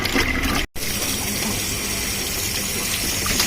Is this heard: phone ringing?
no